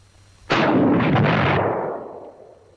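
A rocket grenade striking a solid steel slab over 2 inches thick, one sudden loud blast that rolls on with a broad, rumbling roar for about a second and a half before fading out.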